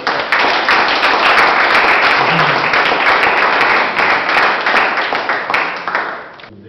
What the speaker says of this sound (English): let's give Yao Morris, Master Yao, a big round of applause